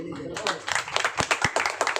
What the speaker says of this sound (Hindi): क्या ताली बजनी चाहिए कि नहीं बजनी चाहिए?